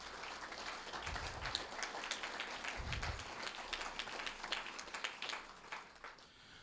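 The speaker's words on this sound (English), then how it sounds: "please give yourselves the largest round of applause for the night" Applause from an audience at a Pennsylvania school property tax meeting, faint and distant, a continuous patter of many hands with a couple of low thumps early on.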